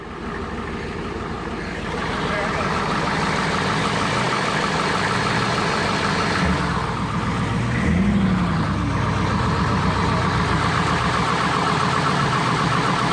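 A diesel engine idles close by with a steady, rough, low rumble and rattling chug that holds constant for several seconds.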